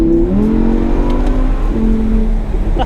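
Audi R8 V10+ sports car in Vegas Yellow, its V10 engine revving up and then settling, a loud, close rising whine over a deep steady rumble, with no talking.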